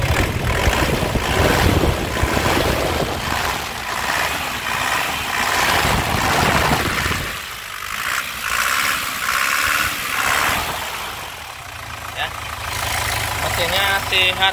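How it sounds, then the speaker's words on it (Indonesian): A black 2014 LS Turbo engine with about 72,000 km gets revved, a steady rumbling idle swelling and dipping through throttle blips; it is close and continuous for the whole stretch, with some background noise. "Kita gas-gas lur biar marem."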